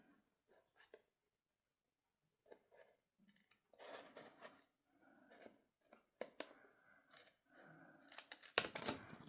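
Quiet, sparse snips and clicks of scissors cutting and trimming paper for a large gift bag, with handling rustles between cuts and a louder crisp burst at the end.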